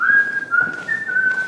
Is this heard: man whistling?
yes